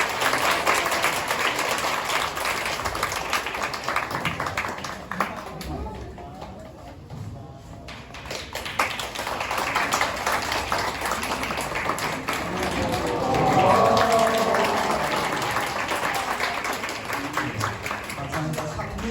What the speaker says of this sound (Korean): 어린이 나온 다음에 박수로 크게 해주세요